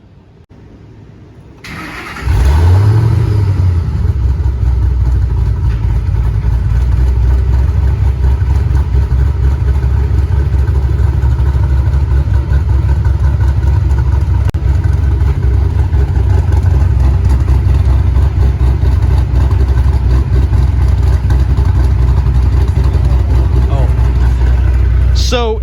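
A cammed Ford Mustang GT 4.6-liter dual overhead cam V8 cranks and fires up, then settles into a loud, steady, close lopey idle that runs on; someone talks briefly beforehand.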